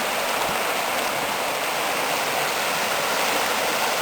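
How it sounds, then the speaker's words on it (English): River rapids at Tea Lake in Algonquin, a loud, steady rush of churning water that fills the whole stretch evenly with no pauses and no voices. "The rapids."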